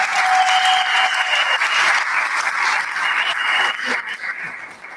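An audience at a poetry closing event applauds themselves with steady, full clapping and a few cheers that gradually thin toward the end.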